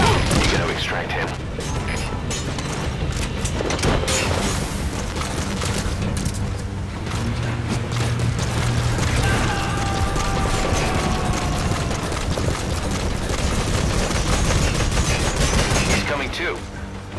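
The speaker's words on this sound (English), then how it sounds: "Keep suppressing fire!" Sustained gunfire bursts in Metal Gear Solid V: The Phantom Pain during a suppressing-fire extraction mission, dense rapid shots with mechanical clatter continuing throughout, with game voices and radio chatter mixed in.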